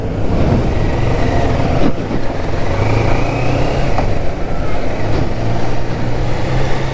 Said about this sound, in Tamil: இன்லைன் 3 சவுண்டு சூப்பராக கேட்குதுங்க